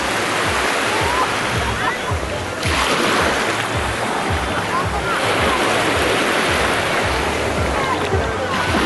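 A mountain river rushing into the sea, loud continuous churning water with surf-like wash and splashing up close as someone wades through the current.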